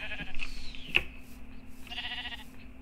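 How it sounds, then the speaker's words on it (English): Minecraft sheep bleating in an Industrial Craft game session at sunset, with several short, fairly close bleats spread across the clip over quiet game ambience. "Why are there so much sheep?"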